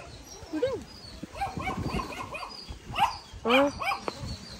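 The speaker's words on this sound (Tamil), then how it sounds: "பக்கத்தை விட நாய் நின்று குலைக்குது." A dog barks and yelps several times from nearby, the calls tangled with people talking in a home setting.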